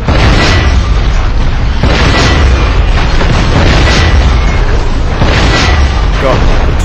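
Loud, dense barrage of in-game explosions from the SpyHunter Nowhere To Run video game, rolling booms recurring roughly every second or two over heavy continuous rumble, with a voice talking underneath.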